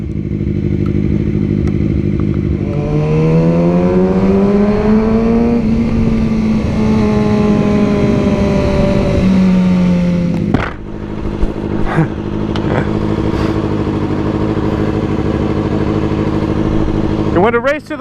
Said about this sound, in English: Yeah, I think that Mercedes would kick my ass. Twin turbo V12.